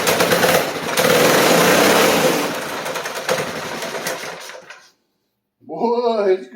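A Baja Heat minibike's small engine runs loud and rough for several seconds, clamped in place with the throttle being twisted, then cuts out; someone speaks briefly afterward.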